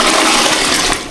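Toilet bowl on a farm rest house under construction, flushing with a loud, steady rush of water that tapers slightly at the end.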